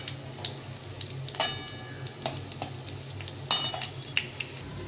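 Dried chili and nigella seeds crackle in a little hot oil as a tempering, a soft steady sizzle broken by sharp clinks and scrapes of a utensil against the pan, with no voices.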